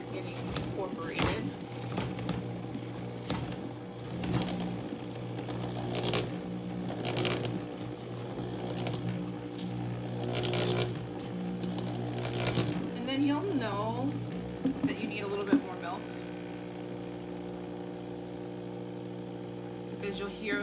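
A blender motor runs while blending frozen bananas, first on low and then turned up. It gives a steady mechanical hum with uneven grinding and rattling bursts, and a person talks over it throughout.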